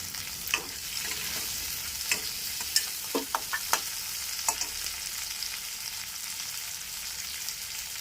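Tomatoes go into a hot pan of spicy crab curry, setting off a steady close sizzle with a few sharp scrapes and clinks of a spatula stirring, no voices.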